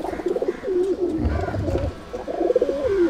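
Pigeon cooing repeatedly at close range, a breed-line fancy pigeon kept by a hobby breeder, with soft rolling coos in a steady rhythm through the whole stretch.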